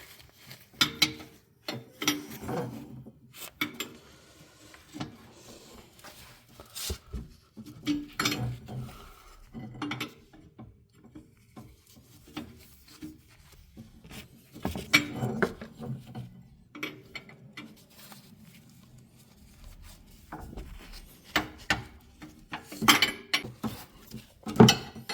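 Metallic clinks, taps and ratcheting scrapes come from tightening an O2 sensor spacer on the catless header of a Porsche 987, in irregular bursts with quiet gaps, close by and without speech.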